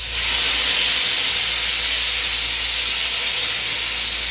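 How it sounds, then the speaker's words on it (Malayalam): Fresh sardines coated in masala frying in a pan, a loud, steady sizzling hiss that fills the whole stretch with no talk over it. "മീൻ ഇട്ടിട്ട് വരാം കേട്ടോ."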